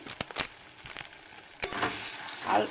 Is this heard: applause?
no